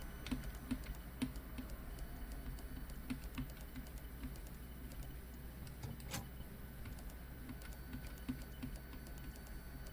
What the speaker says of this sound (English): I'm using keyboard and the mouse.